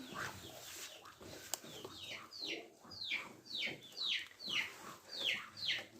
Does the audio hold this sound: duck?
yes